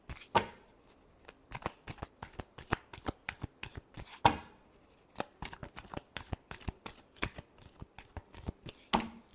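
Tarot cards being shuffled by hand, a close, quiet run of crisp riffling and flicking bursts in an irregular rhythm with no talk.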